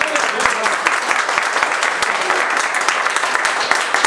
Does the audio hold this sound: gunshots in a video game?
no